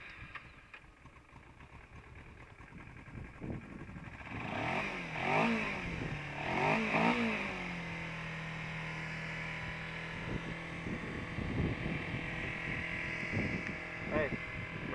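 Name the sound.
Kawasaki Ninja 250R motorcycle engine revving without intake snorkel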